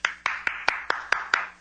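Seven crisp hand claps from one person, evenly spaced and close, with no other sound between them.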